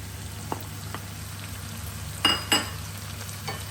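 Beans go into a pot of sweating minestrone vegetables, giving soft sizzles and a couple of brief scraping stirs, close and fairly quiet over a low background hum, with no voices.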